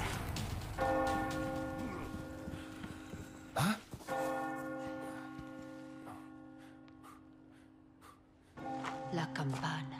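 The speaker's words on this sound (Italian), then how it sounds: "La campana." A church bell tolls in the video game Resident Evil 4, sustained ringing strikes that hum and decay, with a new strike midway and another near the end, alongside heavy breathing and brief sounds of action.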